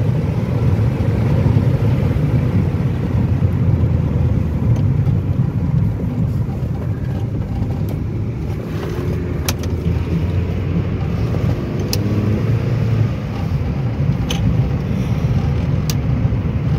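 An Opel Astra G coupé Bertone drives in first gear, its engine drone steady and loud from inside the cabin, with road and wind noise filling the background and occasional light knocks.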